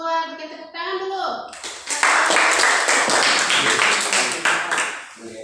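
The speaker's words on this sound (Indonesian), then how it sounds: "Bikin tepuk tangan dulu." A group clapping in a classroom for presenters during a teaching performance exam, starting after a stretch of speech, then loud, dense, steady applause that trails off near the end.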